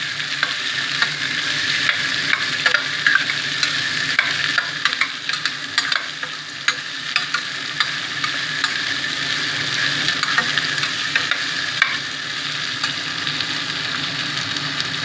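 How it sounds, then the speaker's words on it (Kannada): Sprouted legumes fry in hot oil for a mixed-vegetable kaalu sambar, giving a loud, continuous sizzle close up with frequent light clicks and scrapes of a spoon stirring through them; no voices. "ಎಣ್ಣೆಗೆ ಒಂದು 20 ಸೆಕೆಂಡ್ ಅದನ್ನು ಫ್ರೈ ಮಾಡಿದ್ರೆ ಫ್ರೆಂಡ್ಸ್ ತಿನ್ನೋಕ್ಕೆ ತುಂಬ ರುಚಿ ಅನಿಸುತ್ತೆ ಕಾಳು"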